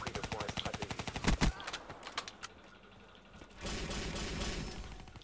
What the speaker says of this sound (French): je lui ai vidé un chargeur entier dessus